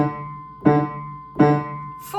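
Piano struck in even taps, with two clear repeated notes audible followed by the start of another at the end, close-miked and quiet, no voices.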